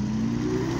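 Lamborghini Aventador SVJ engine running at a car meet in Worksop, a steady loud low drone holding near one pitch, rising slightly toward the end, with no talk over it.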